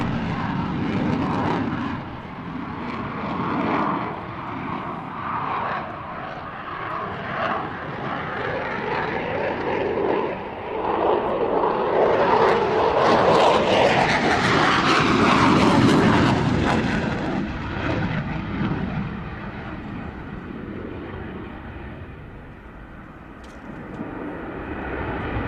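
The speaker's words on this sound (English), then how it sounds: "looking at the wonderful RAF's Typhoon display" An RAF Eurofighter Typhoon performs a display, its jet roar rising and falling as it passes, swelling to a loud, tearing peak mid-way before fading and returning more distantly.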